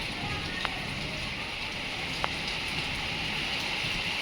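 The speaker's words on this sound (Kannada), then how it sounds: "ಮಳೆಯ ಆರ್ಭಟ ಜೋರಾಗಿದೆ," Heavy night-time rain falls during a storm in Maski, a steady close hiss of water on surfaces with a couple of faint sharp ticks, unbroken throughout.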